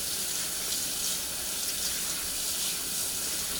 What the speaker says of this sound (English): Put a bit of cold water.